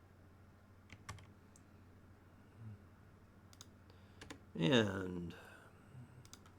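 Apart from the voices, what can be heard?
typing on a computer keyboard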